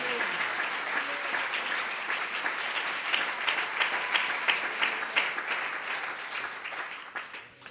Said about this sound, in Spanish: Dele ese aplauso al Señor de gloria.